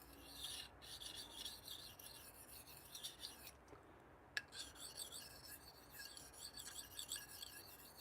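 A knife edge with a burr scrapes across a ceramic rod or strop during sharpening, giving a steady close rasping hiss broken by short pauses and one sharp tick, with no talking.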